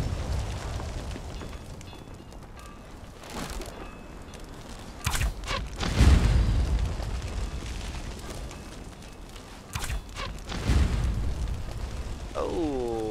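Explosives go off against tier 2 foundations during a base raid in Conan Exiles, several separate deep booms with crackling bursts spaced a few seconds apart over a low ambient game rumble.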